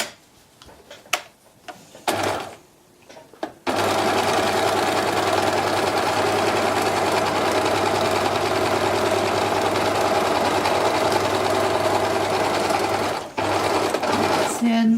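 A sewing machine stitches a beach bag in one long steady run of fast, even clatter, close and loud, after a few brief clicks and handling noises.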